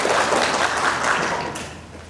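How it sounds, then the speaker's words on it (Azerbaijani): An audience claps in a village hall at a book launch in Borçalı: a short burst of dense, steady applause that fades toward the end. "Biz də fərəhlə əl çalaq,"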